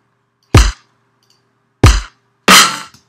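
Three separate sharp key presses on a computer keyboard, Alt with Spacebar, each a short close clack, the last one a little louder and longer, with silence between them and no talking.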